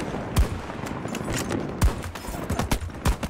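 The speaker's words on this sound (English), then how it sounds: "I'm being shot from somewhere" Gunfire in the Battlefield 2042 video game: several sharp, separated shots, about five spaced cracks over a low background rumble, moderately loud and fairly near.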